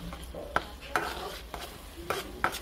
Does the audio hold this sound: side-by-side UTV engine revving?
no